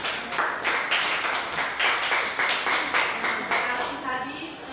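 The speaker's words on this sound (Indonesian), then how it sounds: "Tepuk tangan dulu untuk Olin." Students in an Indonesian classroom clap together for a classmate, a dense, steady burst of applause with a regular rhythmic pulse lasting several seconds at close range.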